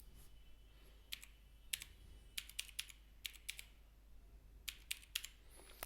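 Computer keyboard keys pressed while entering a password, a few scattered clicks then quick clusters of taps, quiet and close over a low steady hum.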